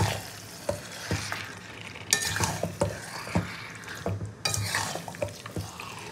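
Yogurt-marinated chicken with spices frying hard in a pan, a steady sizzle broken by repeated scraping and clinking strokes of a spatula against the pan.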